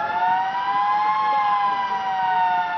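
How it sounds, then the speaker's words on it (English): A rugby sevens match siren signals half-time, a loud, steady electronic wail holding one wavering pitch throughout, clear and continuous with no voices over it. "Siren sounds for half-time."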